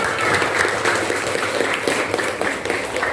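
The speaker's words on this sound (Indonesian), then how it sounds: "tepuk tangan untuk kalian semua" Students in a classroom clap together, a steady wash of applause that is fairly loud and continuous, with no voices over it.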